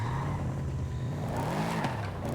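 A max-tuned 2020 Lexus in Forza Horizon 5 drives at speed, its engine droning steadily with a pitch that dips and climbs, plus faint tire noise, fairly quiet and with no talking.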